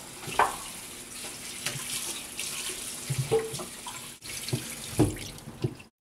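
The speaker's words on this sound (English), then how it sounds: "Cleaning your turkey. Run under cold water, the outside and the inside." A whole turkey being rinsed inside and out under cold running tap water, with faucet flow splashing into a sink and irregular splatters and drips as the bird is moved, close and alone.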